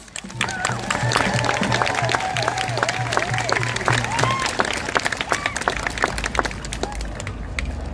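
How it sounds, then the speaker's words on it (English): Loud crowd clapping and cheering at an outdoor May Day protest rally for worker and immigrant rights, sustained throughout, with voices calling out and a low hum running beneath the first half. "Let's give them another round of applause."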